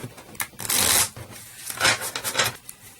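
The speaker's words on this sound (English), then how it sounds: "This is a big thick deck, so I tend to split it into 2 and then start shuffling it" A thick deck of Race for the Galaxy cards, split into two halves, being riffle-shuffled up close: two crisp, rapid fluttering bursts with a brief pause and lighter rustling between them.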